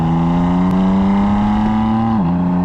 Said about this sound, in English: the standard exhaust really ain't that bad. It still crackles.